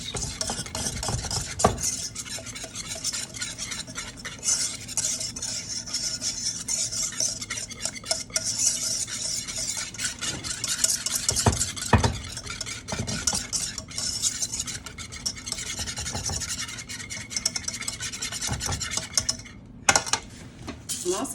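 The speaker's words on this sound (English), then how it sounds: "And whisk fast." A whisk beats quickly inside a bowl while making an easy chocolate recipe, a steady rapid clatter and scrape against the sides that runs without pause at close range, with no talking.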